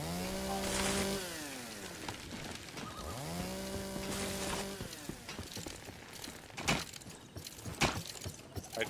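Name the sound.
chainsaw cutting wood in video game Once Human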